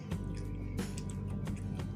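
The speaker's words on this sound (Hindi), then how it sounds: "20 मिनट तक इसको बॉयल करते हैं।" Sarson ka saag (washed mustard greens in their own water) boiling in a pressure cooker, a steady low bubbling simmer with soft drips and occasional louder gurgles, continuous and close.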